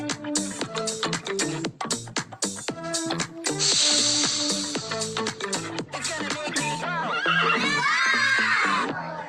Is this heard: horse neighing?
yes